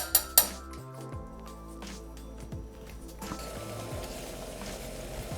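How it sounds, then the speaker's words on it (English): A whisk clinks sharply against a pot a couple of times, then scrapes and stirs continuously as chocolate melts inside, close and moderately quiet. "just going to whisk it all together and get the chocolate to melting"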